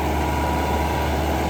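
New Holland 850 tractor engine running in low first gear while pulling a Supreme 60-cutter super seeder, a steady heavy diesel drone with constant low rumble and no pauses.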